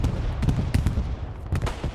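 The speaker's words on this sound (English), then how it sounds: "Bombing run comes in." Bombing run explosions during a multiplayer video game scrim on the Foy map, a rapid string of sharp bursts and low booms over a rumbling battlefield background, fairly loud and continuous.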